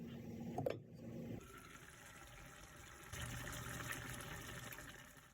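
Water poured into a pot of onions and tomatoes for chickpea curry, a soft steady trickling gush that starts after a brief clatter and runs on quietly and close, with no talking.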